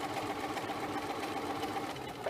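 Sewing machine understitching fabric, a quiet, fast steady mechanical whir of stitching running continuously without pause.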